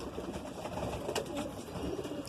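A Madrasi pigeon in Aurangabad coos in soft, low, throaty murmurs against a faint background hum, close by and without talk.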